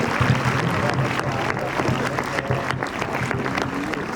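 A reunion-meet audience claps in welcome for the principal, staff and students. The applause is dense and continuous, with faint voices and crowd noise mixed underneath.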